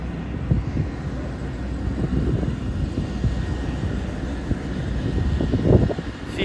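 C-17 military transport aircraft flying at the Comox airshow, a steady low broadband engine roar with wind noise, fairly loud and continuous throughout, swelling slightly near the end.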